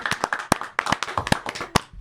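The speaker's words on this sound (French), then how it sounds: "On l'applaudit." An audience at a French employment event claps in a loose, uneven patter of close, sharp handclaps that overlap irregularly for a couple of seconds.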